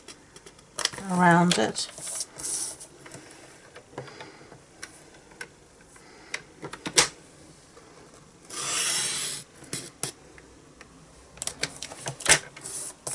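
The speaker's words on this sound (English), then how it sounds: "using my trimmer, I'm just going to cut very gently" A paper trimmer slides through paper in short rasping strokes and ticks, with a longer scraping pass midway, close and fairly loud, while a person briefly talks.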